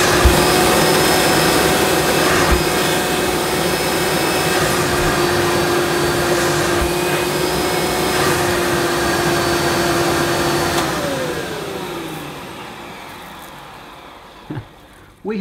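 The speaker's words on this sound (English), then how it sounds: "I'll just check the old suction through the hose." A Hoover Professional dual-purpose vacuum cleaner runs with suction through its hose, which has small holes in it: a loud, steady whining drone that slowly winds down toward the end, with a couple of knocks at the close.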